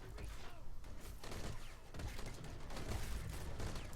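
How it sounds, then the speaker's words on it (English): Mortar fire in the video game Call to Arms, a dense battlefield mix of heavy thuds and booming blasts repeating every second or so under a constant roar of combat noise. "they really like their mortars in this game"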